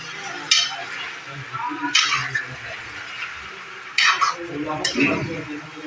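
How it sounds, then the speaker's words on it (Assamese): A spoon works through salted meat curry cooking in a pot, with a few sharp scraping clinks against the metal over a low simmering sizzle, while a voice talks in the background. "নিমখ দিয়াৰ পিছত ধুনীয়াকৈ লাৰি দিলে হ'ল"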